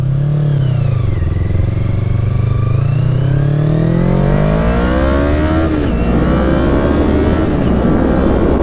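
A Kawasaki Ninja 250 sport bike revs hard through short gears, its engine pitch climbing steeply then dropping at each quick upshift, loud and close with steady wind roar and no talk.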